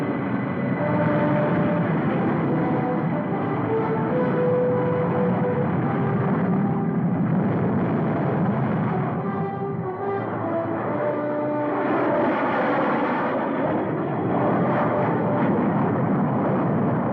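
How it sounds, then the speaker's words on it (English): Unidentified transport planes fly overhead with a loud, sustained droning engine roar that rises and falls slightly over many seconds, in an early-1950s film soundtrack. "Unidentified transport planes."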